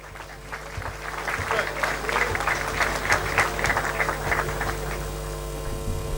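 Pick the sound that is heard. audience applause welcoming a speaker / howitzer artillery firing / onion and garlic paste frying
audience applause welcoming a speaker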